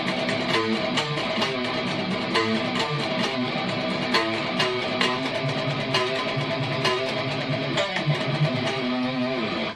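Up-to-speed variation of a song's intro riff played on a distorted guitar, a dense, loud and continuous wall of fast picked notes with no voices.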